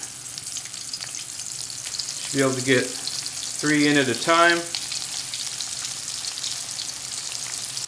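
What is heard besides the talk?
tacos frying in hot oil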